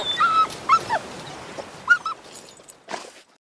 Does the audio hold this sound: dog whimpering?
yes